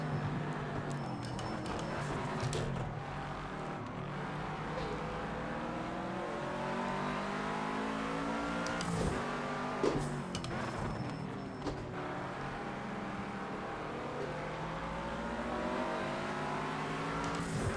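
Race cars in Project Cars 2 drone steadily with layered engine tones, shifting pitch as they accelerate and hold pace on a course, with a couple of brief bumps near the middle and no voices.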